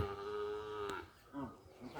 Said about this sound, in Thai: วัวใครหลุดมานะ